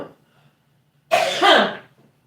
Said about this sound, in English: I still have the cough, I told you guys.